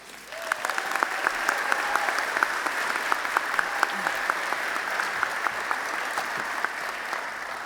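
Steady applause from a commencement audience at UMass Amherst, a dense wash of clapping that holds at an even level from start to finish, with a few sharper claps standing out.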